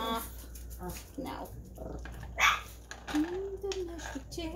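Several dogs bark and whimper in an indoor room, some yelps and short barks, under nearby talk.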